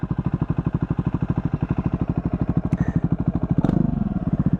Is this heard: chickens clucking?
no